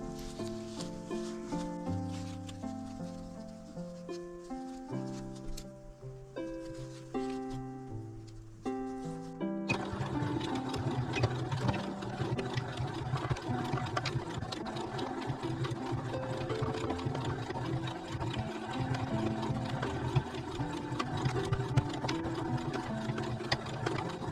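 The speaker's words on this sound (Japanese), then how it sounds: "表に返して、ここ端ミシンかけます。" A sewing machine stitches along the edge of a quilted pouch, a steady rapid mechanical chatter that runs continuously at close range after a quieter musical opening.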